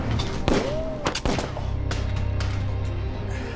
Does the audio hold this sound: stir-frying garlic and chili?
no